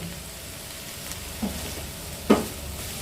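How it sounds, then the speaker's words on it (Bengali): Mixed vegetables seasoned with salt and ground black pepper fry in a pan for a vegetarian dish, a steady soft sizzle throughout with a couple of faint stirring clicks, no voices. "ভেজিটেবলসগুলোকে আমি একটু হালকা করে আগে ফ্রাই করে নেব"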